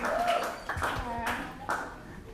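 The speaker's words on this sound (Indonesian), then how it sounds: "Tepuk tangan biar semangat nih temennya nih" Audience at an entrepreneurship talk show clapping in a few uneven bursts, with a speaker talking over it and voices calling out.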